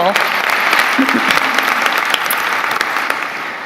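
Audience applause at a university college of nursing white coat ceremony, a dense, sustained wash of clapping from a large crowd that carries steadily through the whole moment and tapers only slightly at the end.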